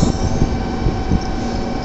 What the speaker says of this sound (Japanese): 画面左側に到着のこちらの新幹線はのぞみ31号博多駅です